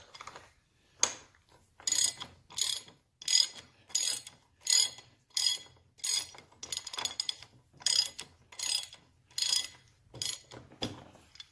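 A ratchet wrench works Allen bolts on the front fork of a 1971 Triumph Tiger 650 motorcycle, sounding as a steady series of sharp, close clicking bursts about once a second, with short pauses between strokes.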